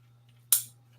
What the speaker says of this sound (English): I'm gonna take these scissors